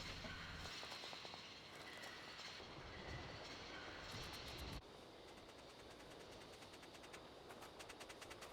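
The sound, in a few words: train departing in the video game Syberia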